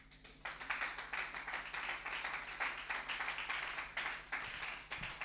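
A church congregation claps and applauds together in a dense, continuous wash of hand claps, with rhythmic pulses running steadily throughout at a fairly loud, room-filling level.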